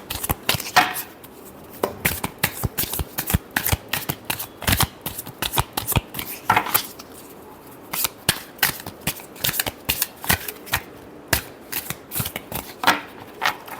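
Tarot cards are shuffled by hand in a long run of crisp riffling bursts, close and fairly quiet, with short pauses between quick flurries.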